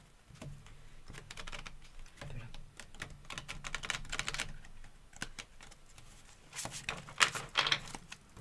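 Béline oracle cards are shuffled and handled at close range, a run of quick papery riffles and taps in irregular bursts, growing busier toward the end.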